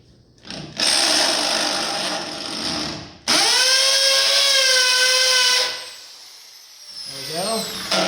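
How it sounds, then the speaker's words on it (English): A drill bit pressed into metal to start a hole on a 1948 Chevy truck's S10 frame, delivered as a few short, high whining bursts that rise and fall in pitch, loud and close, with gaps between them. "I'm going to push the bit into the metal and just basically mark the metal"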